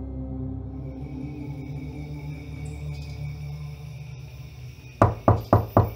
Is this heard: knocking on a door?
yes